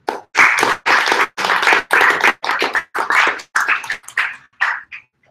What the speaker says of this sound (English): So, I'm going to applaud Keyboard.